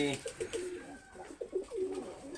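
Golden pigeons cooing close by in a home loft, a series of soft rolling coos in quick succession.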